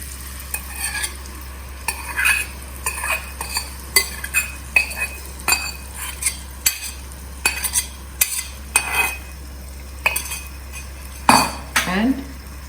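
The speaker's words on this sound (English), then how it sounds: "Go on sautéing till the masala, all the dry masalas, they are cooked. Till then you have to go on stirring." A spoon scrapes and stirs kala chana masala, black chickpeas with dry spices, as it sautés in a pan. Irregular metallic clinks and scrapes sound over a steady low sizzle, close and clear with no talking.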